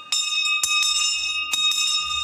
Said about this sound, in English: Good old handbell.